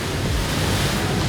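Rough open Tasman Sea waves and wind surround a boat, heard as a dense, loud roar of surf and buffeting wind noise with no voices.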